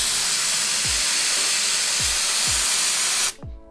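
Air hisses loudly and continuously from a tyre deflator fitted on a valve stem, broken by a few low knocks, then stops abruptly near the end.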